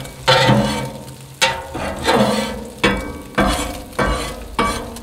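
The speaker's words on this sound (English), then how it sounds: "Eggs are finishing up cooking." Eggs cooking on a Blackstone griddle, with steady sizzling broken by several sharp scraping or stirring strokes at an irregular rhythm, close and fairly loud, with no talking.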